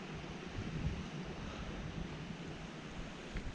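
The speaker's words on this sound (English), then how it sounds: "Now, back in the waterfalls." Aber Falls (Rhaeadr Fawr) roars in a steady, broadband rush of falling water, with some wind buffeting the microphone and no voices.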